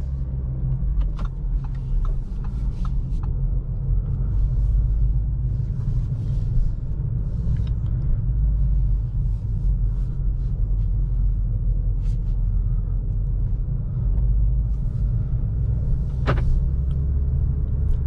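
An Audi A3 Sportback 35 TFSI with a 1.5-litre petrol engine drives at night, heard from inside the cabin as a steady low engine and road rumble with faint clicks, continuous and without talk.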